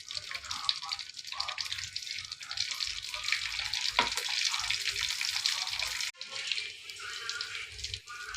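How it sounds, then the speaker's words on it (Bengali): Bitter gourds frying in a pan with whole garlic and onion, a continuous close sizzle with intermittent stirring scrapes and one sharp metallic knock, a brief dip near the end before the hiss resumes. "করলাগুলো ভাজি হয়ে গেছে"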